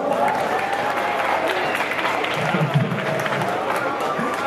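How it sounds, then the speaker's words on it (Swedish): Audience at the Dreamhack Summer 2013 gaming event claps in a steady, moderately loud round of applause, with voices and crowd murmur mixed in throughout. "Så en stor applåd till er själva."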